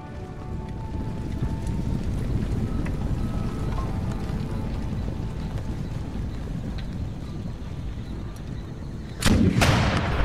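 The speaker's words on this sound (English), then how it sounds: "Oh, they're firing back." Cannon fire from warships in a naval battle game, a steady rumbling barrage with a sharp, loud blast bursting in near the end.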